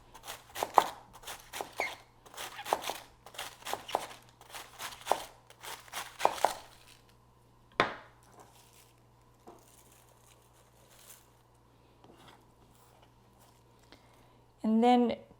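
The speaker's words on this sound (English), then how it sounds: "you want to chop the cabbage pretty fine" Cabbage chopped finely with a sharp knife on a cutting board, bursts of quick crisp taps in rapid runs, then sparser single cuts, with a voice speaking at times.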